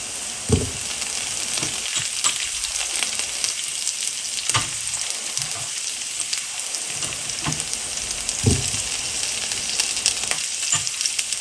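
Sliced onions frying in oil in a pan for a koi fish curry, a dense, steady sizzle close up, broken every second or two by soft scraping stirs of a spoon, with no talking.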